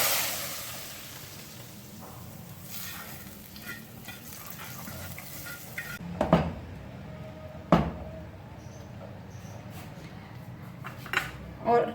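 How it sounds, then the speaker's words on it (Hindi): Hot tempering of whole dried red chillies poured into a pot of mixed moong and masoor dal, with a brief burst of sizzling and a couple of clanks from the pan, under low kitchen noise. "तड़का ऐड करेंगे।"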